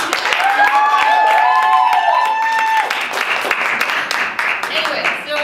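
An audience at a live music and performance evening applauds in a burst of clapping that swells and then thins out, heard close along with some voices and a few tonal whistle-like sounds during the first few seconds.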